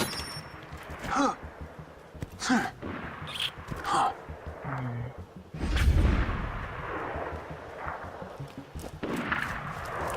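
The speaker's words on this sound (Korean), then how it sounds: "아 총소리 때문에 착각했네" Gunfire and explosions from the video game Borderlands 2, a few loud irregular bursts with a heavy boom midway, spaced among quieter game sounds and breaths.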